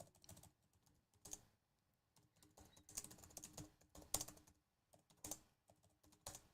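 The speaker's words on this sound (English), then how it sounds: "y'all got to hear the clacking of my keys" Computer keyboard keys clack in irregular bursts of rapid typing with short pauses, close and fairly quiet, with no talking.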